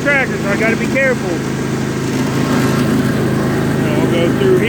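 A Husqvarna lawn tractor towing a trailer runs at a steady, droning engine note as it drives along. A brief voice is heard near the start.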